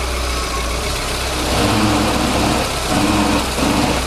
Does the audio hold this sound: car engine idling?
yes